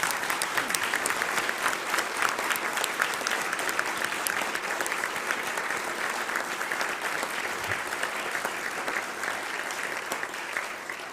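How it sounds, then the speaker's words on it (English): Sustained applause from a luncheon audience at the National Press Club, steady dense clapping that fills the room without letting up and with no voices over it. "How about a round of applause?"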